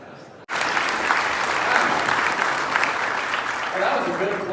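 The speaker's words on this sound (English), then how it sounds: "That was a good applause" Loud, steady applause from a comedy club audience, starting abruptly after a brief quiet moment and holding at full strength for several seconds, with scattered whoops and crowd noise mixed in.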